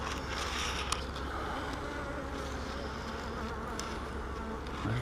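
Honey bees swarm-buzzing steadily around an open beehive during a frame inspection, a dense continuous hum close by with no talk.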